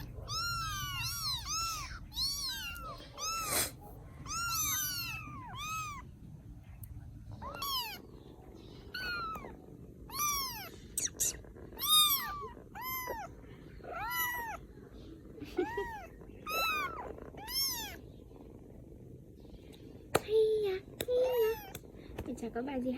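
Rescued baby kittens meow repeatedly in high, thin cries, close by and frequent, while people talk softly underneath.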